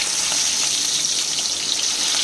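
Katla fish pieces hiss and sizzle in hot mustard oil in a kadai, a steady, close, bright frying noise with no voices.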